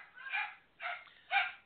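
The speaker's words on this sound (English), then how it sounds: "And my dogs agree with me." Dogs bark three times in quick succession, short sharp yips that come through clearly in an otherwise quiet room.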